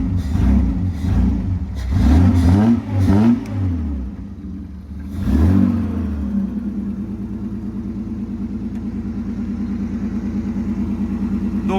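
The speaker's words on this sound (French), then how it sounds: "je vais vous la démarrer parce qu'elle fait un bruit génial" A 1961 Austin Healey 3000 BT7 MK1 engine cranks and fires, blips through several sharp revs, dips, revs once more, then settles into a steady, close, throbbing idle.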